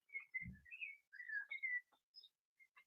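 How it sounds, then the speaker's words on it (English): A pet bird whistles loudly indoors in a rapid string of bright, sliding chirps and whistle notes, close to the listener, with a short low thump early on. "Bird is just yelling too loud right now."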